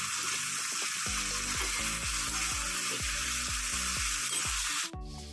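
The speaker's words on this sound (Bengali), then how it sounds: "গোটা জিরে তেজপাতা ফোড়ন দিয়ে আলু পটলটাকে ভেজে নিচ্ছি।" Potato and pointed gourd fry in oil with whole cumin and bay leaf, giving a steady, close sizzling hiss under background music that cuts off abruptly near the end.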